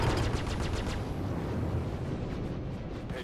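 Rapid bursts of gunfire pound an Aegis Saber spaceship's shields during a fight against a Vanduul swarm in Star Citizen, a dense crackling barrage loudest at the start that trails off into rough rumble.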